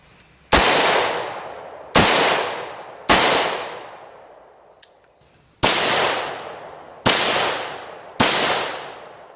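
Standard 5.56/.223 55-grain rifle rounds strike a quarter-inch plate of hot rolled steel, six loud sharp cracks with ringing decay spaced about a second or more apart, plus one tiny tick between, with no voices.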